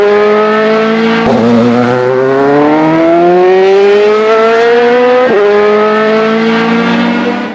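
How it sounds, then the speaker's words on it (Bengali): A child's bike motor starts and revs, giving a loud, close, tonal whine that climbs steadily in pitch with two short breaks. "বাচ্চা তো এখন বাইক নিয়ে রেডি আছে, একটু পরেই সে তার বাইকটা স্টার্ট দিবে।"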